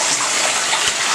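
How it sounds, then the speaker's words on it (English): Water runs hard into a bathtub during scrubbing, a loud, steady, hissing gush that fills the whole clip with no pauses. "I have to re-scrub the tub because I have salt in it."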